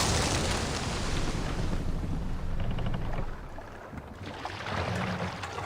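Ship cannons fire during a naval battle in Assassin's Creed Valhalla, heard as a heavy, continuous rumbling boom under roaring water and wind, loud and dense throughout with a brief dip in intensity midway.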